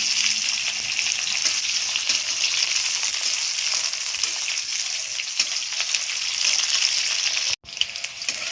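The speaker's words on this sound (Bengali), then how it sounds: "ফুলকপিটা ভালো করে লাল লাল করে ভাজতে হবে।" Cauliflower pieces frying in hot oil in a pan, browning slowly, give off a continuous close sizzle with faint stirring scrapes and a short gap near the end.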